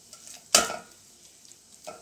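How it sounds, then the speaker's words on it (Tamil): Thick coconut candy mixture is tipped from a pan onto a plate greased with coconut oil, making a single soft scraping plop, followed by a faint clink a moment later in a quiet room. "நான் இனி தட்டில் எடுத்து கொட்ட போகிறேன்"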